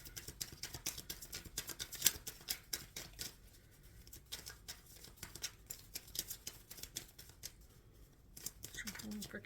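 Tarot cards are shuffled by hand in quick bursts of soft rustling clicks, quiet and close, with a person speaking softly in between.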